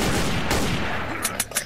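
Gunfire in the zombie survival game Axe Survival: a dense wash of shots gives way to three short, sharp cracks near the end, loud and close.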